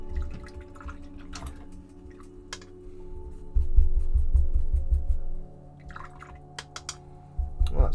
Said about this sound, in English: I'll just give my brush a wash.